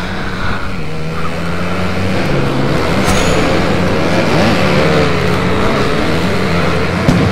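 A dirt bike engine roaring continuously on a sandy beach in the MX vs ATV video game, loud and close with a shifting revving drone for several seconds and no talk.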